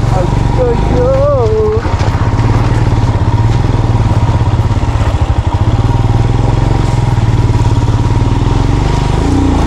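Vehicle driving through glacier meltwater on a road near Pangong Tso in Ladakh, its engine a loud, steady, close-up drone that fills the whole stretch, with a few brief tonal sounds early on.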